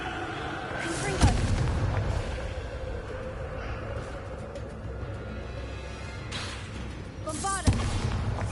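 Confringo fire spells blasting in Hogwarts Legacy on PS5: two heavy booming bursts several seconds apart over a steady rumbling game background, with a voice talking between them.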